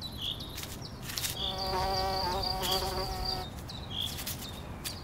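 Insects buzz close by around flowering viper's bugloss on compressed, poisoned ground in an industrial setting, a steady drone with wingbeat tones rising and fading as they pass, alone without voices.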